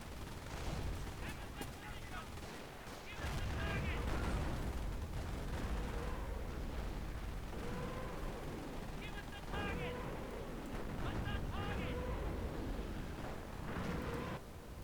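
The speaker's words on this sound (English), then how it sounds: "gonna hit him again with artillery" Artillery shells and gunfire boom through a Company of Heroes battle, a steady barrage of blasts and rumbling explosions filling the scene from start to finish, with game voices speaking over the din.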